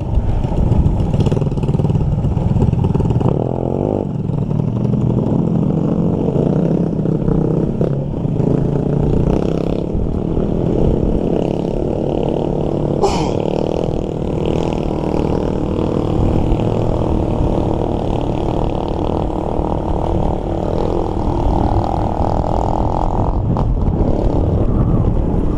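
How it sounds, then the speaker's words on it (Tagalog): Motorcycle engine running loudly and steadily throughout, a continuous close rumble on a highway ride with clattering mechanical noise and no talk over it. "Ang lakas pa ng motor niya."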